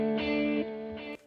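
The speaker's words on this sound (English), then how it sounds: "here's my plate reverb and my quarter note delay again" Electric guitar through a Line 6 HX Stomp with plate reverb and quarter-note delay, a sustained distorted chord followed by a quieter repeat and a fading tail, heard alone.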